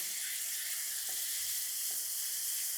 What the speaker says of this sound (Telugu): వెన్నెలో మంచిగా కుక్ చేసుకోండి